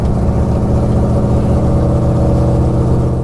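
Drag race car engine roaring loud and steady at full throttle, a dense, unbroken low rumble that holds for the whole stretch with no voices.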